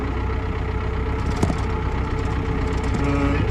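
A tractor loader engine idles with a steady, low, chugging rumble, close by, with a single brief knock partway through; the loader struggles to lift.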